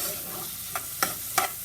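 Onion fries in a pan for green enchilada sauce with a constant close sizzle, and three quick scraping stirs come in the second half.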